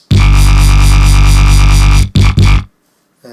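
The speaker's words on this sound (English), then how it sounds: "It's actually a default massive preset." A default preset from the Massive synth plays a drop part as a loud, sustained, buzzing bass tone with a steady pulsing wobble for about two seconds, followed by two short stabs and then silence.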